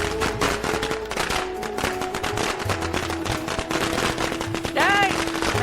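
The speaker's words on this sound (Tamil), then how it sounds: "போடுறா வெடிய" Firecrackers set off at a lively outdoor celebration in a Tamil TV serial, giving dense rapid crackling bursts that run continuously under music and voices, with a rising whistling rocket near the end.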